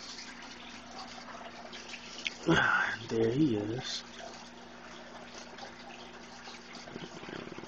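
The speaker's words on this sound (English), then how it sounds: "I guess you can hear the water running in the background." Water runs steadily through a snapping turtle's tank, a continuous soft hiss in the background while someone speaks briefly nearby.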